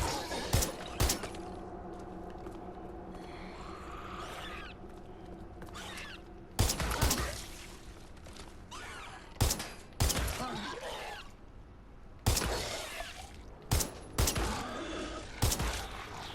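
Gunfire while shooting zombies in the video game Watch Dogs Legion: sharp shots and short bursts crack out at irregular intervals, fairly loud and close, separated by quieter mechanical clatter.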